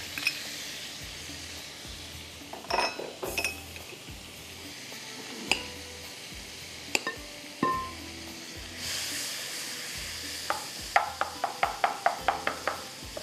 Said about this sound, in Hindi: इसके अंदर जाएगा ये लहसुन गार्लिक डालते हैं, थोड़ा इसको फ्राई करेंगे